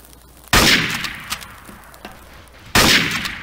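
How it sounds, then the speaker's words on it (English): Two grenade blasts in Garry's Mod Trouble in Terrorist Town, each a loud, sudden broadband burst with a decaying tail, the first near the start and the second almost two seconds later, with a few faint clicks between them. "Oh, I dropped that grenade."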